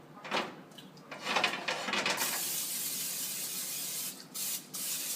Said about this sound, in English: Make sure you go ahead and spray your pan down.